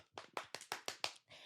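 A short round of applause for podcast guests, about six distinct claps in quick even rhythm, close and fairly faint, with no talking.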